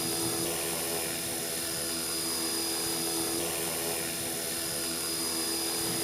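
An Align T-Rex 450 RC helicopter's rotor spins as it lifts off the ground, a loud, steady, continuous high whine with a buzzing motor tone that holds unchanged throughout, close to the listener.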